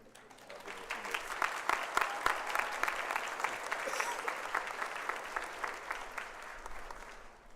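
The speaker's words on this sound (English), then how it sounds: "Now you can clap." Steady audience applause at a 2025 commencement ceremony, a continuous, fairly distant wash of many hands clapping that swells and then slowly tapers off.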